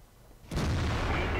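The main gun of a SU-100 tank destroyer fires in the video game World of Tanks: one sudden heavy boom that rolls into a sustained loud rumble.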